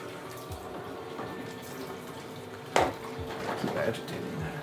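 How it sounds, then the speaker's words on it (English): A darkroom photo print is rinsed and agitated in a tray of plain water, giving soft, close splashing with a brief louder slosh partway through, with faint voices in the background. "I'm gonna go ahead and rinse it off."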